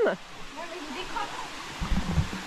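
Steady rushing roar of El Gran Zapanal, the fifth of seven mountain cascades, a dense broadband wash of falling water that never lets up, with faint voices rising briefly near the end.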